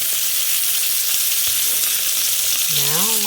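Steak frying in butter in a pan, a steady loud sizzle filling the whole stretch, with a brief tonal squeal rising near the end.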